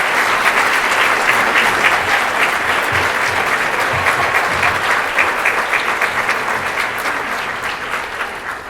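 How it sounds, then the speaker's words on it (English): Audience at a school district retirement celebration gives a sustained round of applause, dense steady clapping from a large crowd that carries throughout and eases slightly toward the end. "nice round of applause"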